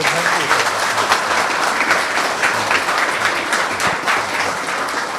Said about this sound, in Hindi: आप लोग ऐसे सन्नाटे में बैठे हैं, ताली नहीं बजाएंगे?